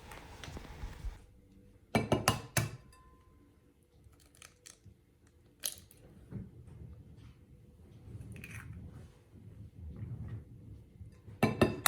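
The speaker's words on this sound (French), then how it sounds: "Dans un bol, on met 3 œufs." Three eggs cracked into a bowl while making Spanish muffins, giving a few separate knocks and clinks against the bowl with quiet pauses between them and no talking.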